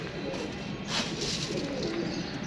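Pigeons coo softly against a steady background hum, with a faint bird call in the mix.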